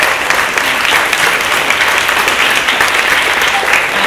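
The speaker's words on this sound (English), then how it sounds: "Can I get a huge round of applause for those amazing panelists?" Sustained audience applause for a panel of speakers at an evening networking event, dense and steady clapping filling the room for the whole stretch without letting up.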